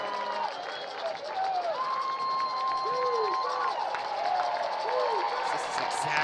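A dense crowd roars and cheers steadily at a high school football game between PNG and Huntsville, with an announcer talking over the din and a few whistle-like tones rising above the noise.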